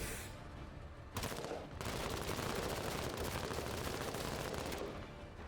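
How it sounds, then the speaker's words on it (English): Rapid gunfire and fusillades in the video game Menace, with dense, continuous bursts that sound loud and close, and no voices over them. "Wetteroth, open fire."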